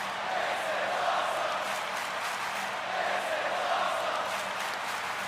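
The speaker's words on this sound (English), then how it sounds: "Crowd in Philly here loving it" A wrestling crowd in Philadelphia cheers and roars steadily throughout an Elimination Chamber event, a dense, sustained wash of voices with no gaps.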